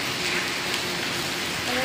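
Light rain falls at Trasi beach, a steady, dense hiss of drops that stays even throughout without pause, close and fairly loud.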